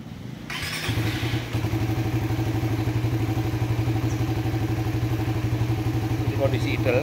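A motorcycle engine idles steadily and fairly close, a low, even rumble running throughout with a faint clatter on top, alone without talk.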